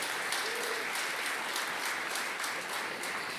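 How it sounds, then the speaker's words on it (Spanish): Dense applause from a church congregation fills the space, a continuous wash of many hands clapping, steady and moderately loud from start to finish. "Dale palmas al Rey, por favor, apláudele fuerte."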